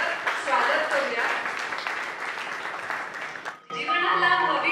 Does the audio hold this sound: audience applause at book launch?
yes